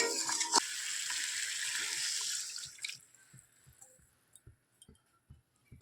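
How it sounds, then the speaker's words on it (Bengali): Water poured into a pan of bitter gourd and lentil dumplings frying in oil, a loud hissing splash and sizzle for about three seconds, then quieter bubbling with scattered small knocks and clinks. "জল ঢেলে দিলাম, জল ঢেলে"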